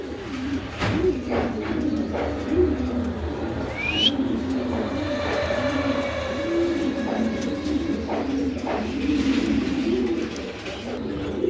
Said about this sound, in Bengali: তারপর দেখা যাচ্ছে একটা মক্ষী কবুতর, এন্ডোলজিয়ান মক্ষী নর